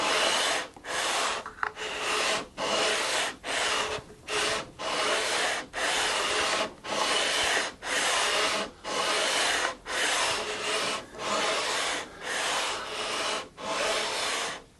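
Non-directional sandpaper on a radius block sands a guitar fretboard in steady back-and-forth strokes, a broad close rasping scrape with short pauses between passes, alone and without talk.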